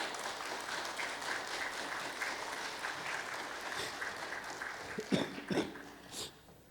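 Applause from the audience at the 25th anniversary ceremony of the Won Buddhist Women's Association, a soft, distant patter of clapping with a few louder thumps and breathy noises near the end.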